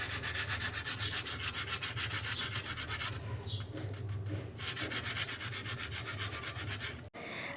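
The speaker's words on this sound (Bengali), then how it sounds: "আপনারা নিশ্চয়ই এই বেগুনির সাউন্ড শুনে বুঝতে পেরেছেন যে এই বেগুনিটা কতটা পরিমাণ ক্রিস্পি" A crispy fried eggplant fritter (beguni) is broken apart, giving a dense, steady crackling crunch up close that pauses briefly midway, then resumes until a sharp final snap.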